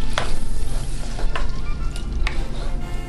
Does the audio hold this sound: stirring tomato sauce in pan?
yes